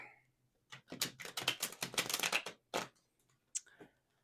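Tarot cards are shuffled by hand in quick, crisp riffling bursts, a run of rapid flutters followed by a couple of short separate snaps, close and unaccompanied by speech.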